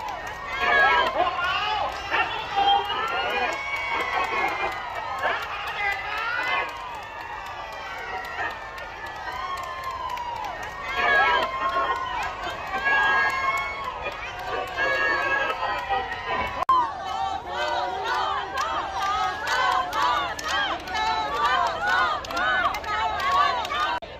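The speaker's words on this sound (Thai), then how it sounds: "มีเสียงชาวบ้าน ตะโกนเชียร์นายก" Villagers at a Thai roadside gathering shout and cheer for Prime Minister Prayut, their raised voices coming in bursts and lulls over a continuous crowd babble, with people talking nearby throughout.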